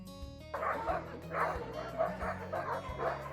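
Excited sled dogs at a Denali National Park kennel bark and yip in repeated bursts, a chorus of several dogs close by with whimpering in between, their noise steady and loud throughout.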